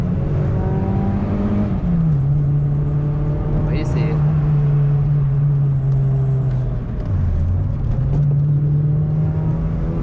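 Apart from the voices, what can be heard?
small hatchback engine revving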